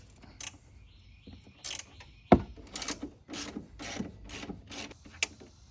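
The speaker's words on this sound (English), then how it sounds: "we're going to use a 14 mil to disconnect the top of the strut" A 14 mm ratchet wrench loosens the top strut bolt on a Kawasaki Brute Force 750 ATV during a lift kit install, giving close, irregular bursts of ratcheting clicks separated by short pauses.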